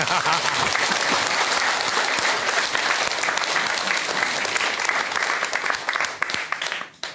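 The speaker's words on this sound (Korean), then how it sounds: "박수 한번 치세요" A studio audience at a Korean Buddhist broadcast talk show bursts into loud, full applause with dense overlapping claps that continue strongly for about seven seconds before fading out.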